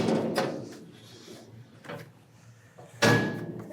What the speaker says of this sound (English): close the table,